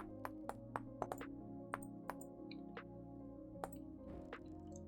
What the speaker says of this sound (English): Every time you use a new color and you hear that splashing sound, it uses up 1 durability from the palette.